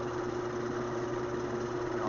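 A compressed-air expansion motor runs with a steady, even hum and a faint mechanical buzz, continuous and close, with no other sounds.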